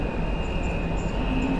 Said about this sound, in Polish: Pociąg Pendolino piętrowy.